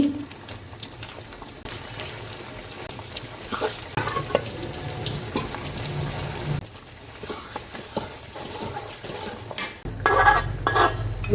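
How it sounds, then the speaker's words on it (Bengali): Beef pieces fry in a pan with spices for an achari-style preserved beef dish, with scraping stirring strokes and soft sizzling continuing steadily at close range, occasional louder clatters of the utensil against the pan. "ভাজা হয়ে গেছে মাংসগুলো দিয়ে দিচ্ছি"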